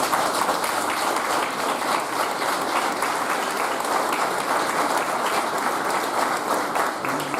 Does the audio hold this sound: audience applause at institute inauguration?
yes